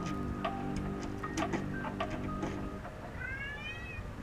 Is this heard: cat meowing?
yes